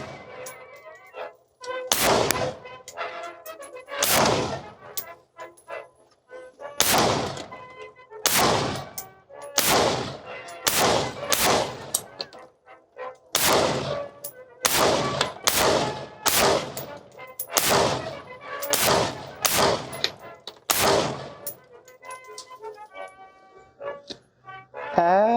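An Armalite AR180B rifle with a muzzle brake fires about seventeen sharp, loud shots in uneven strings, some in quick pairs, with short pauses between groups.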